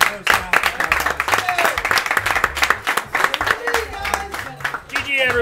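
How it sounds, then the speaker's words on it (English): A crowd at a Super Smash Bros. gaming tournament claps and applauds steadily for several seconds, dense and close, with a voice breaking through near the end. "let's give a round of applause to everyone else who played in the first round"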